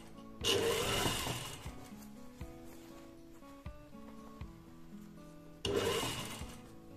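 A domestic sewing machine stitches a zipper fly on a garment, two close whirring runs of rapid stitching at the start and end, with quieter handling of fabric and the machine in between.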